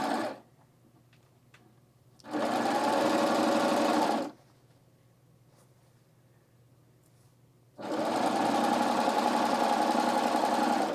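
A sewing machine stitches fabric for an aloha dress, running in two steady, loud bursts of rapid mechanical whirring with a quiet pause between them.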